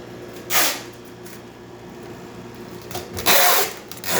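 Twin grinders of a freshly serviced Jura Giga 5 coffee machine crushing beans, heard as short mechanical whirring bursts separated by a quiet machine hum, close and moderately loud.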